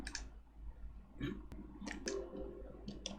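A computer mouse clicks and double-clicks during SketchUp 3D modelling. The sharp, close clicks come in small clusters, spread irregularly over a quiet background.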